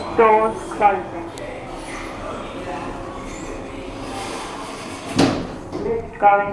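Lift doors slide shut with a broad whoosh and soft thud near the end, preceded by chime-like tones, over a steady hum of the lift interior with a spoken announcement.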